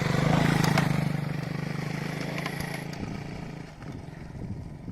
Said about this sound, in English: You can see this KTM over here, it's doing off-roading